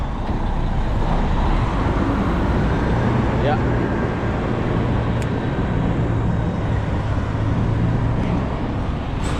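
Deep, steady engine rumble of idling trucks at a busy truck stop in Houston, Texas fills the scene continuously, with a brief voice speaking once over the drone.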